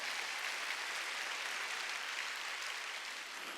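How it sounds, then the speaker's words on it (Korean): Church congregation applauding during a Wednesday worship sermon, a steady broadband wash of clapping that holds evenly throughout, moderately distant and fading slightly near the end. "깨달았으면 박수치라니까."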